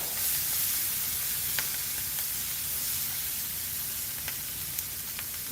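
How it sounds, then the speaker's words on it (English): Sausage sautéing in a frying pan, a steady close sizzle and hiss with a few faint spatters, no talking. "Saute them just a little bit."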